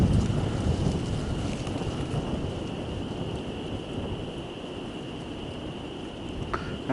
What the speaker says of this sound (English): That's crazy how that wind picked up like that